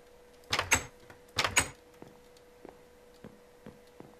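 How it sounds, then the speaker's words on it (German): Wooden door placed in the Minecraft video game, two quick clattering clicks close together, then faint light ticks spaced evenly, with no speech. "Jetzt mach ich mir da endlich meine Tür rein."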